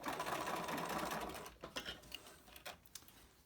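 Sewing machine top stitching the edge of a fabric face mask with a filter, a steady close whirring run that stops partway, followed by a few short bursts of stitching.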